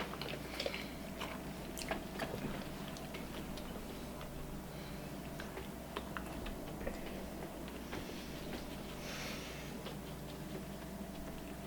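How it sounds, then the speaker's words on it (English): A child chews a bite of Dunkin' Donuts bagel with soft, steady mouth clicks and faint crunches, close and quiet, with no talking. "He's chewing his bite."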